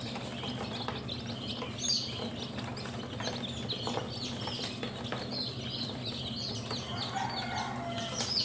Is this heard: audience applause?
no